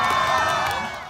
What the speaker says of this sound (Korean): 시내를 가득 메운 베트남 국민들이 환호합니다.